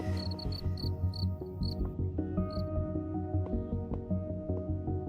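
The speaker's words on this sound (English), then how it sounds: "Moments before, there were crickets chirping" Crickets chirp in a forest, quick high pulses repeating rhythmically through the first two seconds over a low sustained drone, then fading out as the drone carries on.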